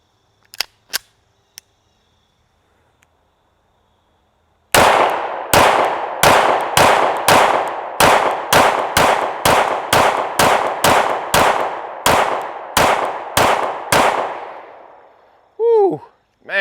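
A Staccato C2 DUO 9mm pistol fires about fifteen loud, sharp shots in quick, fairly even succession outdoors, each with a short ring, preceded by a few faint clicks and followed by a brief voice.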